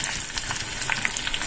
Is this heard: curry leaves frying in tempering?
yes